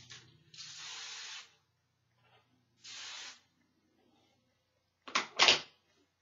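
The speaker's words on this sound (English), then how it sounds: "I'm going to add a little bit of hairspray just to lift it a little bit more" Aussie hairspray sprayed onto hair in short bursts: a one-second hiss, a shorter second hiss, then two quick puffs, close and clear with silence between them.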